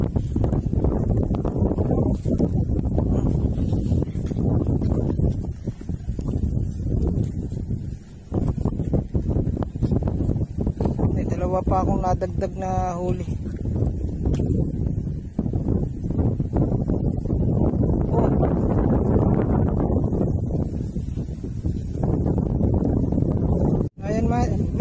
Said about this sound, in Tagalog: Oo, talagang mahangin.